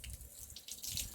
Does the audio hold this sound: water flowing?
yes